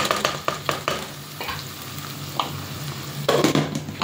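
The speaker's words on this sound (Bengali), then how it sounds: "আমি গাজরটা আগে দিয়ে দিলাম, তো গাজরটা সিদ্ধ হবে" Carrots cooking in a pan, sizzling and frying steadily with repeated close scraping stirs of a utensil against the pan.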